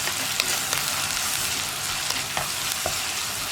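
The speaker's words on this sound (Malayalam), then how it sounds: "ഇതെല്ലാം ചേർത്ത് നന്നായിട്ടൊന്ന് വഴറ്റിയെടുക്കുക." Curry leaves, ginger and onion sautéing in hot oil, a loud continuous sizzle close up with occasional scraping stirs of a spoon in the pan, no voices.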